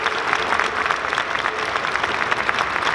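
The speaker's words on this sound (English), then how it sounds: "So please, a big applause for already all the contestants" A large audience claps steadily for cosplay contest contestants at a DreamHack 2022 event, a dense, continuous wash of hands with faint voices mixed in.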